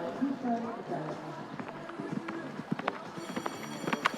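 Hoofbeats of a show jumping horse ridden by Millie Allen at an outdoor grand prix arena, irregular light thuds at mid distance under a commentator talking throughout.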